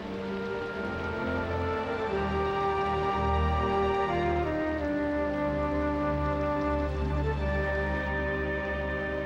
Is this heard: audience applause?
no